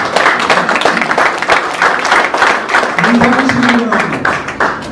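An audience at an office opening ceremony claps for the guests, steady dense applause with a voice speaking over the clapping.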